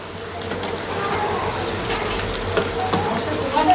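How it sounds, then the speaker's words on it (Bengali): Meat and pointed gourd (potol) fry in a pan in a home kitchen, with a continuous sizzle and the rhythmic scrape of stirring close by and voices faintly in the background. "এই যে রান্না হচ্ছে এখন মাংস আর পটল ভাজি হবে"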